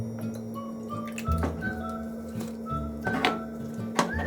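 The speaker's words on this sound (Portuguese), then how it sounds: "Em um dos recipientes, nós iremos despejar o sal na água." Salt pours into a container of water, giving soft trickling and splashy liquid sounds with small drips and bursts over a steady background hum, close and moderately quiet.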